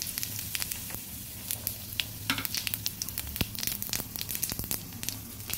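Bay leaf, cumin seeds and five-spice frying in hot oil for a vegetarian chana dal, giving a steady close sizzle broken by sharp crackles and pops from the spluttering seeds.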